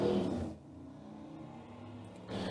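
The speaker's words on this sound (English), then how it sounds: "I don't know why somebody has to show off how loud their car can be" A car engine revs loudly outside, a broad rumbling roar that swells at the start, drops to a lower sustained drone through the middle, then surges again at the end, with no talking.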